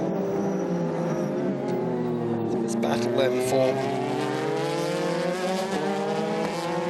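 The Junker Power Taizan Porsche races at Autopolis in a Super GT round, its engine note climbing and shifting through gears in close, loud sweeps while a commentator talks over it.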